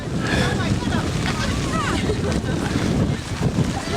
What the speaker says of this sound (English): Now the wind's coming up.